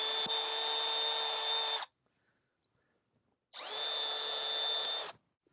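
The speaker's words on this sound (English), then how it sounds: "I have a bore bit on the end of a drill." Power drill spinning a bore bit to clean dirt out of a brake caliper bore: two steady, high-pitched whining bursts of about two seconds each, separated by a silent pause, close and alone.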